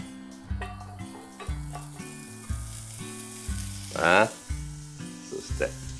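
Pancetta and olives fry in a hot, dry pan with no oil, giving a steady, close sizzle that swells briefly partway through, with tonal background music underneath.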